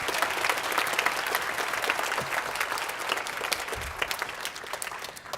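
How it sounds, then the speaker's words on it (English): Steady audience applause after a middle school winter choir concert, a continuous wash of many hands clapping at moderate distance for several seconds, with no speech over it. "Please give a special round of applause to Mr. Kevin Maloney for accompanying us"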